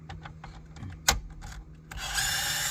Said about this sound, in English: See, if you angle that drill bits right, you're good.